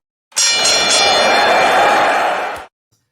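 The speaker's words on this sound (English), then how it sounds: "I'm going to ring the bell, and we're going to get underway." A single bell rung to start a wrestling-themed show gives a bright, sustained metallic clang that rings loud and steady for about two seconds before cutting off sharply, with no talking over it.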